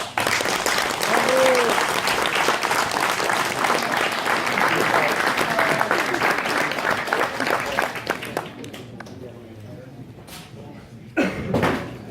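Audience applause for a finalist named at a French award ceremony, a dense sustained clapping from a crowd that thins out near the end before a short final burst, with a voice briefly heard over it.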